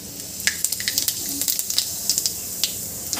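Mustard seeds spluttering in hot oil for a tempering, with cumin to follow, a close run of sharp, irregular pops and crackles over a soft sizzle.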